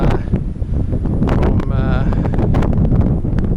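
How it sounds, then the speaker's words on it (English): Strong wind buffets the microphone on a hilltop overlooking a bridge near Bergen, with gusty rumbling roar throughout and a person talking over it. "It's pretty windy."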